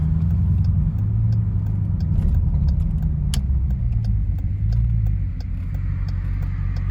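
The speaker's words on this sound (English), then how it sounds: "It's got a really, really nice idle sound to it." A Dodge Durango SRT with an MRT cat-back exhaust idles with a deep, steady bass burble, close and continuous, with slight wavering in the low rumble and no talking.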